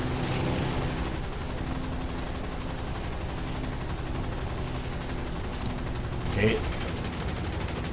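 Machine gun fire from aircraft in the air-combat video game War Thunder, a steady dense rattle of gunfire running throughout under a voice speaking French, with one slightly louder burst near the end.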